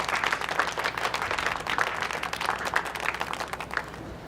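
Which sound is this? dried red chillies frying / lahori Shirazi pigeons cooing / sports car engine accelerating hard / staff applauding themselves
staff applauding themselves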